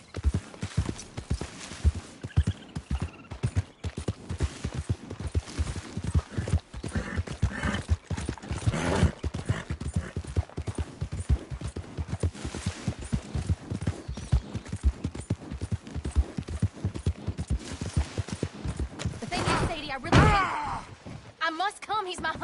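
Horse hooves clip-clop steadily during riding in the video game Red Dead Redemption 2, a dense rhythmic patter of footfalls running throughout, mixed with game sounds and voices talking over them.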